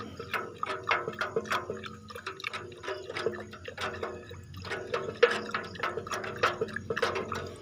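A liquid mixture for watering bean plants being stirred by hand, giving repeated sloshing and dripping splashes in an uneven rhythm, close and moderately loud with no talking.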